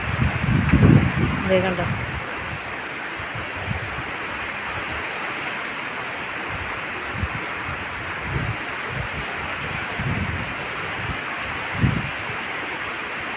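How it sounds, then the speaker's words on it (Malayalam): Strong wind sweeps through the trees around a house, including a drumstick tree, with light rain falling, a broad continuous rushing hiss with occasional low gusts; a voice speaks briefly near the start. "നല്ല കാറ്റുണ്ട്."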